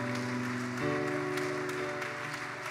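A seminar congregation applauding, a faint steady patter of clapping under a sustained musical drone.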